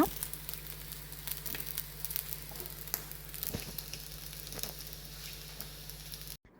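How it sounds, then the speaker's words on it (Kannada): Salt sole rotti cooks on both sides in ghee or oil on a griddle, giving a steady soft sizzle and crackle with occasional faint pops and no talk, ending abruptly. "ಮೇಲಿನಿಂದ ಸ್ವಲ್ಪ ತುಪ್ಪ ಅಥವಾ ಎಣ್ಣೆಯನ್ನು ಹಾಕಿ ಎರಡೂ ಬದಿ ಚೆನ್ನಾಗಿ ಬೇಯಿಸಿಕೊಳ್ಳೋಣ."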